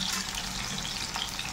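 Chillies, garlic and onion fry in hot oil, giving a steady, close sizzle with a dense crackling hiss and no talk over it.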